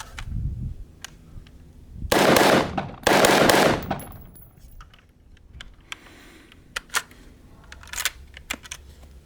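ACR rifle firing two loud, sustained bursts of gunshots close by, followed by scattered sharper cracks and faint distant shots against a quiet background.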